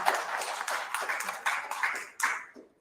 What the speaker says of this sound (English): let's give a warm hand of applause to Advocate Dion Reuters